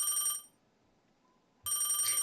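A telephone rings in two bright electronic bursts separated by a short silent gap, fairly loud and close, with no voices.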